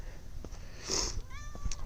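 A house cat meows once or twice nearby, a short rising call over quiet room noise.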